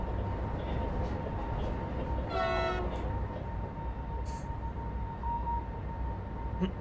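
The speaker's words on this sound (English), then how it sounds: "And a freight train." A freight train rumbles steadily past a Vectron 193.902 electric locomotive running between Brno and Pardubice in the Czech Republic. A short horn toot sounds midway through the passing noise.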